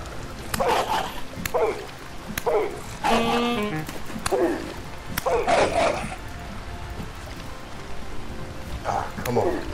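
A pup in the survival video game Vintage Story gives a series of short yips and barks at irregular intervals, moderately loud over ambient game sound with a soft rain-like hiss.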